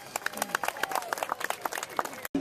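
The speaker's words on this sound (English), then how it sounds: "How about a round of applause for our hemo attendants?" Applause and clapping from a crowd at a Hawaiian luau on Oahu, a steady dense patter of hands filling the space at moderate volume, with scattered voices mixed in before it cuts out abruptly near the end.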